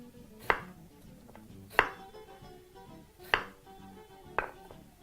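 Four crisp knife chops strike a cutting board as potatoes are cut into even fries, spaced about a second apart, close and clear over a quiet kitchen background.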